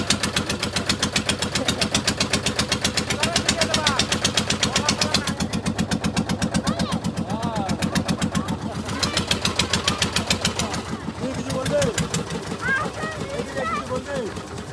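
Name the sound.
boat engine running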